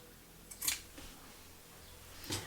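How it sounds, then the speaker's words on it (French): Scissors cut fabric for a simple sewing project, giving two crisp, quiet snips about two seconds apart over near silence. "Ok, donc là c'est bon, j'ai coupé."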